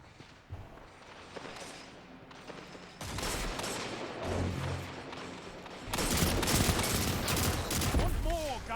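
Video game team shooting erupts in bursts of rapid gunfire that grow denser and louder, with a heavy sustained volley at the end and a voice talking underneath.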